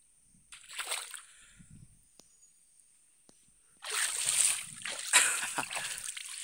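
Flood water spreads across a rain-soaked farm field, splashing and sloshing in two bursts, a short one early on and a louder, sustained stretch later, with quiet gaps between.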